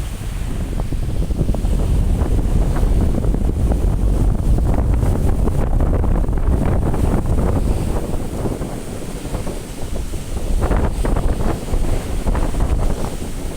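A strong wind blows across the water at the Nam Theun 2 reservoir in Laos, a loud, continuous roar of buffeting gusts and rushing surf with no voices.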